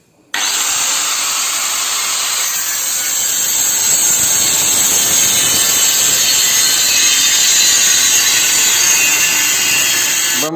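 A power cutter starts up and slices through stainless steel square pipe for a staircase rail, giving a loud, sustained high-pitched grinding whine that runs steadily without speech.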